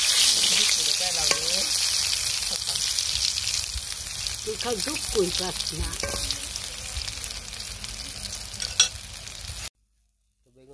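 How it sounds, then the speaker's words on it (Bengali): Brinjal slices fry in a pan with a loud, continuous sizzle and crackle, and a person speaks briefly over the cooking before it cuts to silence. "বেগুন ভাজা হয়ে গেছে নামাইতে পারবো"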